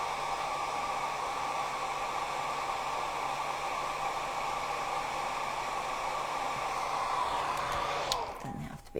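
A hair dryer blowing steadily on a painted Halloween book nook cabinet, a loud continuous whooshing hiss that cuts off abruptly near the end.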